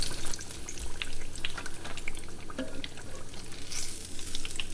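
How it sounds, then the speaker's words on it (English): Eggplant fries in a pan with a steady, dense crackling sizzle. Faint scrapes and light taps sound throughout. "Flip your eggplant. Once it's nice and golden brown, take it out of the pan."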